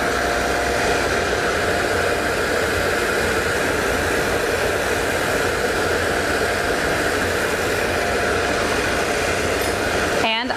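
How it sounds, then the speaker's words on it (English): A Foredom polishing machine and its dust filter, set up with a buff for polishing inside rings and bracelets, run together as a loud, steady broadband whir that holds for about ten seconds. "I'm going to turn on my filter. Turn on my machine."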